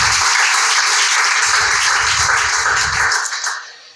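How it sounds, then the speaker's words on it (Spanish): A church congregation bursts into loud, continuous applause for the Lord during a class on deacons. The clapping stays full for several seconds, then fades away at the end. "Fuerte el aplauso para nuestro Señor."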